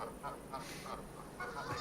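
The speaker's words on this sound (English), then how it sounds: "you can hear the geese" Several geese in the game Pax Dei honk in short, scattered calls over a steady background hiss, moderately faint and somewhat distant.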